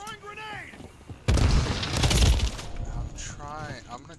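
A grenade goes off in a first-person shooter video game, one sudden loud blast that rumbles and fades over about a second, with a player's voice heard before and after.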